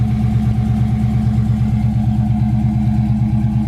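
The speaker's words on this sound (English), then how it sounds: "Car runs great, dual exhaust sounds good." A loud, steady idling V8 engine in a 1967 Ford Mustang with a throaty, rhythmic dual exhaust burble, close and continuous throughout with no talking.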